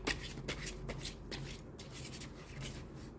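Tarot cards being shuffled by hand, a steady run of soft riffling and slapping card sounds at close range, with no voices.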